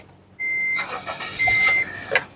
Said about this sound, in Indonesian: baru kita coba nyalakan mobil